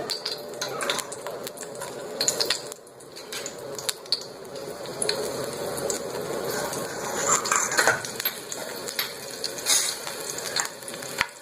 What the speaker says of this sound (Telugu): ముందుగా అయితే కొంచెం ఆయిల్ వేసుకుని ఒక మూడు పచ్చిమిర్చి